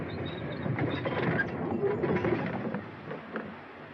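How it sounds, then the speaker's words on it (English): A loud, continuous rumbling roar of a train, steady and close, with rattling mechanical noise throughout. "Don't that train make enough noise?"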